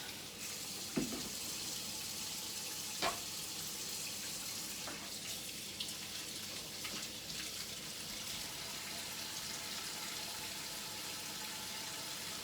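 Tap water runs steadily into a kitchen sink as vegetables are washed, a faint, even splashing hiss with a couple of soft knocks and clinks from handling; no one speaks.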